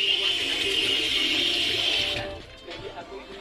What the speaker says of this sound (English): Flush the bugs away.